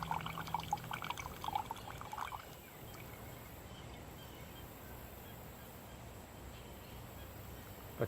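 Water dripping and trickling through an Ozark Trail coffee drip maker, with small splashy drips early on that then settle into a quiet, faint background.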